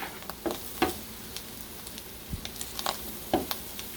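Meat for kilawing Kapampangan sautéing in oil in a pan, a continuous crackling sizzle broken by irregular scrapes and taps of stirring.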